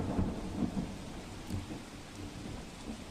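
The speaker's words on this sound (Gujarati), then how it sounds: "અમદાવાદના અલગ અલગ વિસ્તારોમાં ભારે પવન સાથે વરસાદનું આગમન થયું હતું" Heavy rain driven by strong wind across parts of Ahmedabad, a faint steady wash of rainfall with soft low rumbles and gusty swells, no voices.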